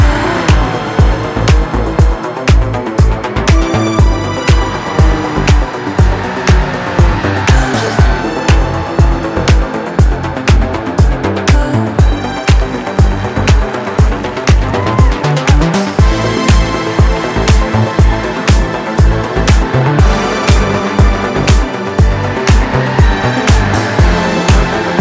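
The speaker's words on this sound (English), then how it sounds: "we demonstrate how GT Sophie has learned to drift around a track using a precise sequence of driving maneuvers." Race car drifting around a track in the video game Gran Turismo, a loud continuous engine roar with rapid rhythmic pulses and tire squeal throughout, no talk.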